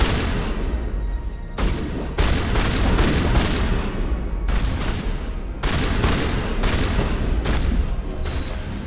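Shotgun blasts in the horror shooter Dead Space ring out loud and close, a rapid series of heavy booms layered over a constant, noisy firefight.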